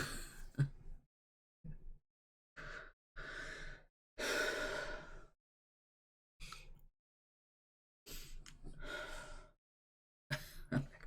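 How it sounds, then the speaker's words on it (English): A person does breathing exercises, taking a series of loud, close, deliberate breaths: gasping inhales and long sighing exhales separated by silent pauses, about seven breaths in all. "I'm actually doing breathing exercises."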